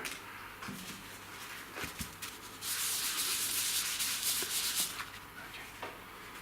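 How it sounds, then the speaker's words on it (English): A part of a 3D printer filament dry box is sanded by hand, a faint close scratchy rubbing that grows denser and steadier midway, with light knocks at the start. "Oh, I see now that this could have been sanded a little bit more here. Let's just do that for a moment"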